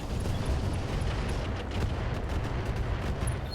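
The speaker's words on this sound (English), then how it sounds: "Firing everything I've got." A mech in the RogueTech video game fires all its weapons at once, producing a dense, continuous roar of booming gunfire and artillery blasts that lasts throughout without letting up.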